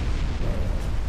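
Torpedo hits burst against a ship in a naval combat video game, a dense continuous rumble of explosions filling the whole second with no pause and no talking.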